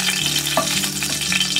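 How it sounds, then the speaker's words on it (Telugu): Green chillies frying in a pan of oil for a homemade amla pickle, a steady close sizzle with light stirring scrapes and small pops, no voices. "బాగా వేగనివ్వాలి పచ్చిమిర్చి"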